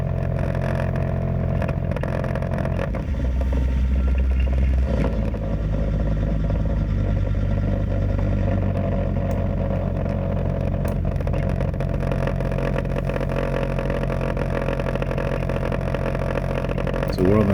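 Cabin of a 2001 Mercedes-Benz W163 ML270 CDI diesel on a road test for a drive shaft centre bearing fault, a steady low engine and road drone with faint rattles, someone speaking over it.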